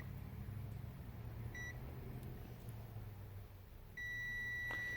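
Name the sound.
multimeter continuity beep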